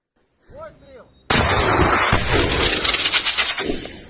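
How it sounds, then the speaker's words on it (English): An RGW-90 Matador anti-tank weapon fires at an abandoned, mined tank in a war zone, a sudden massive blast that rolls into a long loud rumble, with a brief shout just before. "The soldier destroyed Russian tank with German anti-tank weapon RGW-90 Matador."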